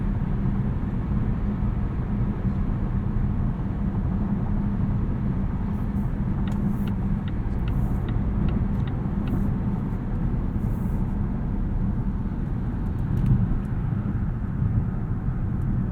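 Steady low engine and road drone inside a 2021 Volvo V90 Cross Country T6 AWD while driving, a constant even rumble with faint light ticks above it, no voices.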